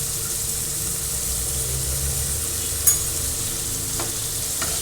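Paneer sautéing with turmeric in a pan, a steady loud sizzle with faint stirring scrapes and a low hum beneath, no voices.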